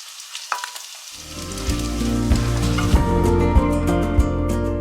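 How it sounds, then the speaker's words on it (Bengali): Soya chaap sizzles in a pan as it fries until reddish. The steady, close frying noise starts about a second in and continues without any talk. "এরকম দেখো একটু লাল লাল করে ভেজে নিলাম।"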